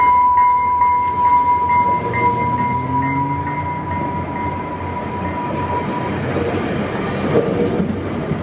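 A train led by locomotive 117, heading back toward Provo, rolls past loudly and steadily, with a continuous rumble and wheel noise, a high tonal whine early on, and brighter rattling later; no talking.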